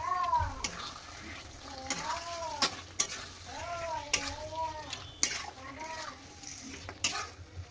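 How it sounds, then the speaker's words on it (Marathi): Chicken and salt are sautéed in masala in a kadhai with a soft sizzle, while a spoon scrapes and stirs in regular strokes and metallic taps punctuate the rhythm. "आता ह्याच्यामध्ये आपल्याला चिकन घालायचं आहे"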